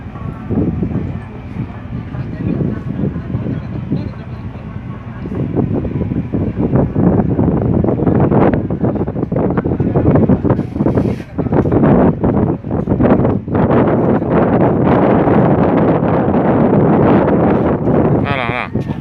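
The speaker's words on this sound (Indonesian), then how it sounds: "Ini guys lagi masuk ke kapal." Steady wind buffeting on a ship's deck while boarding, loud rumbling gusts close to the microphone with people talking throughout.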